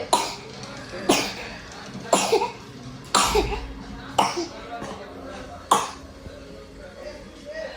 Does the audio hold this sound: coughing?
yes